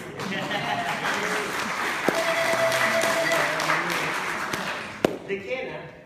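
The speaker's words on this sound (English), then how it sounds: "a round of applause to that lady, please" Audience applause during a talk on Andean flutes such as the quena, a full, steady burst of clapping with a few sharper individual claps, thinning out at the end as a voice begins to speak over it.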